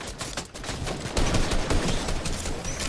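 Dense, sustained gunfire in the Fortnite Chapter 2 Season 3 battle royale, a continuous barrage of overlapping shots that swells louder about halfway through and stays heavy to the end, with no talking.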